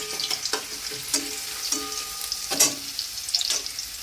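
Garlic cloves sizzling in hot oil, added one by one to a pan while cooking a Bengali prawn-paste dish, a steady crackling fry with a few stirring clacks and no talking.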